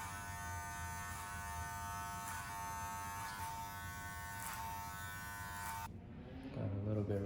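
Electric hair clippers buzz steadily and fairly loudly for several seconds while cutting a man's hair at home, then switch off abruptly, leaving a low rumbling tail.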